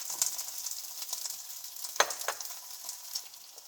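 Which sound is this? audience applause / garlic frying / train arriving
garlic frying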